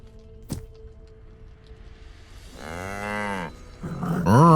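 A cow in Baldur's Gate 3 gives a single drawn-out moo, rising then falling, followed by a louder second bellow cut off at the end, with a faint thump early on.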